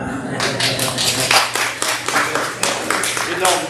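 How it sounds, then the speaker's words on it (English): Light, sparse clapping from a church-style audience, a scattered smattering of hand claps with uneven rhythm, fairly close and moderately loud, with a faint hum underneath. "That's a golf clap."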